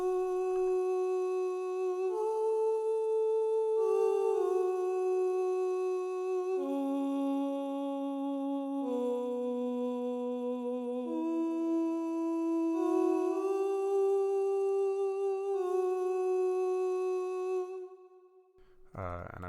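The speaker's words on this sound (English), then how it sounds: "I added in this choir from Mikao's choir from the labs" A free sampled choir from LABS sings sustained layered vocal chords that shift smoothly through a slow progression, full and continuous, before cutting off near the end.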